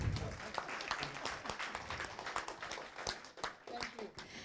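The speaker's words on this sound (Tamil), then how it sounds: "எல்லாமே நல்லா கைத்தட்டலாம்." Quiet audience clapping at a children's singing competition grand finale, with irregular hand claps and some voices mixed in, faint and somewhat distant.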